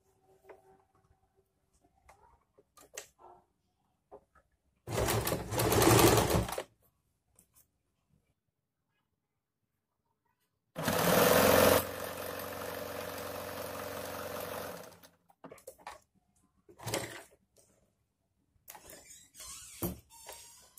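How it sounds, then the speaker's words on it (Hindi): Two close bursts of a sewing machine stitching strips of a layered child's frock, a short run of under two seconds and then a longer steady whir of about four seconds, with light clicks and handling noises around them. "अब हम दूसरी पट्टी को इस तरह इसके अंदर रखकर सिलाई लगा लेंगे।"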